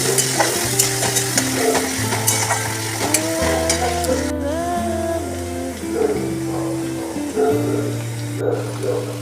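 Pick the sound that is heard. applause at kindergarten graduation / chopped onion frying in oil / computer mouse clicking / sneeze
chopped onion frying in oil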